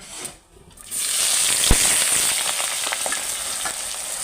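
Sliced onions for biryani fry in hot oil, a dense, loud, continuous sizzle that flares up after a brief quiet start and carries on with crackling pops throughout.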